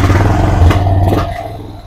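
A 1997 Honda Foreman 400 4x4 quad engine runs close by at a raised idle, a loud low chugging rumble that steadies and then fades slightly toward the end.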